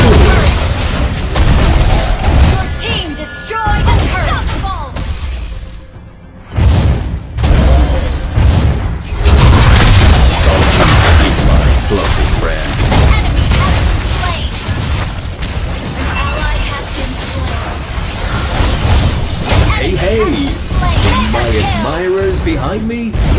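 A turret is destroyed in a Mobile Legends match, with loud booms, crashes and bursts of skill effects layered over in-game announcer voices and background music, continuous and dense throughout.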